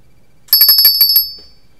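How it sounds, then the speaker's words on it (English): Small cast bunny bell ringing in a quick burst of about eight bright, clear metallic strikes close to the microphone, with a short ringing decay afterward. "a bunny bell, which is actually made out of an actually proper cast bunny bell"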